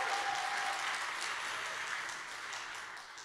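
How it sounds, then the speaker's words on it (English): An audience at a literary festival's closing night event applauds, a dense, steady round of clapping from a large crowd that slowly tapers off over a few seconds. "I think we should have applause to that."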